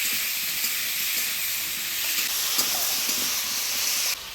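Drumstick stems and potatoes fry with turmeric, salt and ginger paste in a steady, close hissing sizzle, with faint stirring knocks underneath, before the sound drops off abruptly at the very end.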